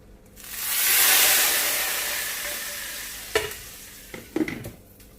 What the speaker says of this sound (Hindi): थोड़ा सा बस इसे फ्राई करेंगे। फ्लेम को तेज कर दिया मैंने।